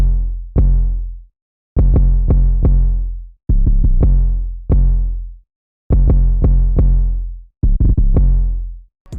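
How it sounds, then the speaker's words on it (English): Two layered 808 bass sounds in a trap-style beat, booming deep hits arranged in clustered rhythmic patterns, each note decaying with a long sub-bass tail, loud and dry with nothing else playing. "And then to complement the first 808, I actually added the spins 808 at the end of each bar."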